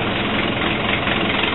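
A Case 580C backhoe's 55-horsepower four-cylinder diesel engine runs at a steady, loud, close idle with a gruff, knocking rumble throughout.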